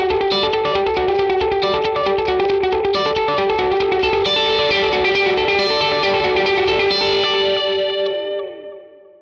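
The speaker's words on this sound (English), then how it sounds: "we'll set the tempo to be a dotted eighth note delay" Bright electric guitar through a Vox AC20 amp picking a melodic line with dotted-eighth-note delay echoes trailing each note, building a shimmering wash that rings out and fades.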